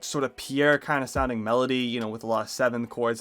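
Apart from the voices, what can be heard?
No distinct noise like a dog, phone or traffic.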